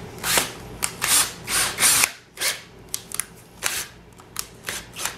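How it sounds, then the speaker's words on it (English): Power drill on two-speed driving a screw straight into vinyl for a TV antenna kit, short bursts of whirring with brief stops in between, close by. "Got my drill on 2-speed."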